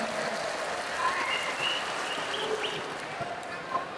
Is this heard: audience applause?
yes